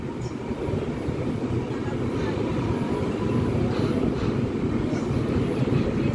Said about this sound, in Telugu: అవతల బ్రిడ్జి నుంచి ఒక ట్రైన్ వెళ్తుంది చూడండి